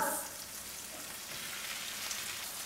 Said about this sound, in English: I'll just let it fry.